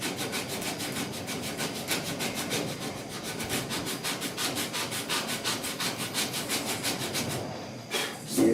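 Steady rhythmic back-and-forth rasping of a sanding block over primer/surfacer on the metal dash and firewall of a 1966 Ford F100, close and continuous strokes at an even pace throughout.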